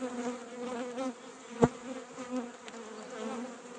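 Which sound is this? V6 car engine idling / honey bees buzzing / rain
honey bees buzzing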